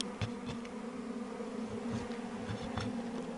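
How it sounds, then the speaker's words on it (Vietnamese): Bees buzzing at a wild bee nest during natural honey gathering, a continuous, close hum with several louder buzzing passes, and no talking. "Đây là tổ ong."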